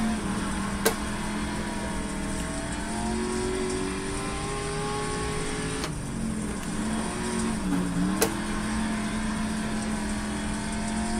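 Chevrolet Camaro race car engine in iRacing, a steady droning engine tone that rises and falls gently through gear and throttle changes, with a few brief clicks, moderately loud and continuous.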